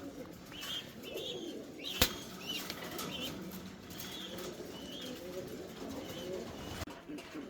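Fancy pigeons at a farm in Singra, Natore, giving soft coos and a brief flutter of wings, with a sharp knock near two seconds over a low, busy background.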